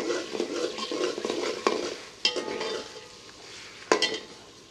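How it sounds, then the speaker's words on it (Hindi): Ginger garlic paste frying for brinjal bharta, a soft close sizzle with spatula stirring and a few sharp metallic knocks against the pan, fading quieter toward the end. "अब इस मौके पे अदरक लहसुन का पेस्ट है मेरे पास, ये शामिल कर लेते हैं। इसे थोड़ा सा भून लेंगे।"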